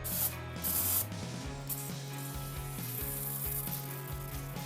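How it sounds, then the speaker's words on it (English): Brake cleaner sprayed into a VW-group CV joint to wash out old grease, a steady hissing spray heard close up alongside low mechanical clatter and ticking from the joint, no talking. "So with the brake cleaner we can wash all old grease from inside and prepare the CV joint for fresh grease."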